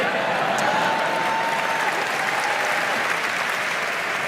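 A large Emmy Awards audience applauds steadily in a big hall, a continuous wash of clapping with a faint background tone and no speech.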